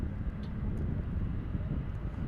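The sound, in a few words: Boeing 777 jet airliner departing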